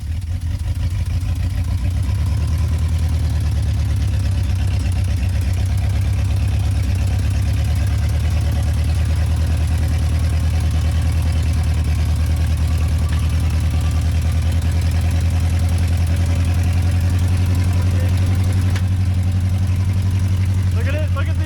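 A 1972 International Cargostar truck's engine idles with a steady, heavy low rumble that holds close and loud throughout, with a slight shift in tone near the end.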